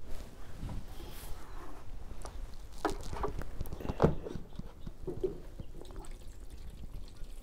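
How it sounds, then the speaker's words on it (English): Water poured into a seedling tray for starting cauliflower from seed, a faint, uneven trickle with a few soft splashes and taps, quiet and close. "So let's put some water in this."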